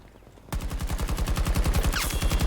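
Rapid automatic gunfire from a Battlefield 2042 shooter match, a near, loud stream of evenly spaced bursts that starts abruptly after a brief quiet moment and keeps hammering steadily to the end.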